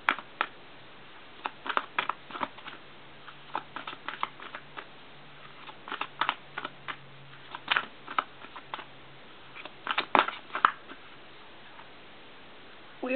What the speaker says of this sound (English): We're just going to go ahead and shuffle these.